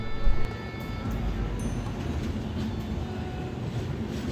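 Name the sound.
Indian passenger train approaching Agra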